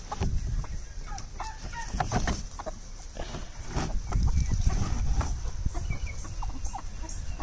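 A flock of backyard chickens clucking and cackling busily on a sunny weekend morning as they are let out, with dense overlapping calls near and far and occasional crowing, steady throughout with no talking.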